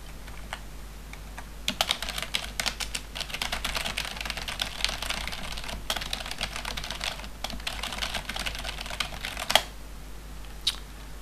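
Steady, fast clicking of a computer keyboard as web page text is typed, close and fairly quiet, with brief pauses between runs of keystrokes and no talk.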